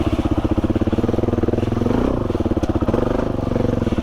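Dirt bike engines, a Suzuki DRZ400 and a Yamaha XT350, thrum loudly and steadily up close while riding single-track trail, the pulsing engine note rising and dipping with throttle changes and a bit of clatter.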